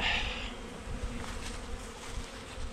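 Honeybees buzz in a steady, close swarm drone at an opened beehive, with a brief louder burst at the start and faint thuds underneath.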